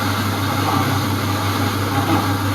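A 14 inch diamond emery stone atta chakki flour mill running steadily, giving a constant motor hum with a gritty grinding texture and no pauses or changes over the short span.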